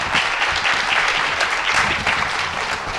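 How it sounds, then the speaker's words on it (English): A conference audience applauding at the end of a session on journalism and climate change, sustained dense clapping from many hands filling the room, steady and loud with no talking over it. "Let's give him another round of applause, please."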